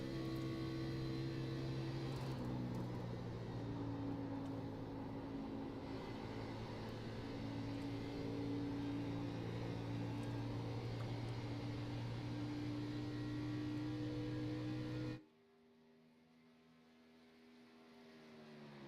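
A stock race car engine drones at a distance with shifting tones as the driver lifts early to save fuel during an Xfinity-style online race, then drops abruptly to a quieter low hum near the end.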